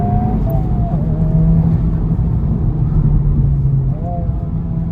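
A sports car driven hard on the road, its engine a close, steady drone with a thin whine rising and falling through gear changes, heard from inside the cabin.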